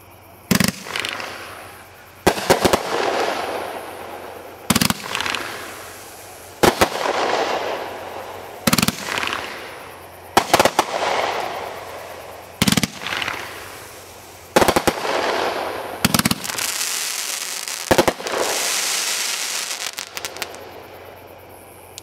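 Shells from a fireworks display burst one after another, about ten sharp loud bangs a couple of seconds apart, each followed by a crackling, echoing tail.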